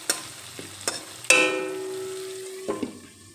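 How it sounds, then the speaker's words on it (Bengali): Masala being stirred in a kadai for kakrol curry: a few sharp scrapes and knocks of a spoon on the pan, then a steady soft sizzle that fades, with more light scraping near the end. "একটু নেড়ে চেড়ে নেব যাতে কড়াইতে মশলাটা লেগে না যায়।"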